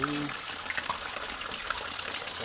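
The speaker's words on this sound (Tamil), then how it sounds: "தண்ணி பாருங்கள், பயங்கர தண்ணி." Rainwater rushes and gushes in a steady, loud torrent after a short, heavy downpour in Tirumalai Agaram. The churning flow is continuous, with no clear voices.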